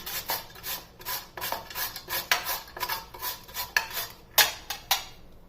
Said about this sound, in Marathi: याला जाड किसणीने किसलं तर मग याचा किस खूप छान असा लच्छेदार पडतो